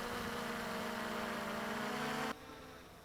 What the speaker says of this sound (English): Here those props bite at the thin air up here.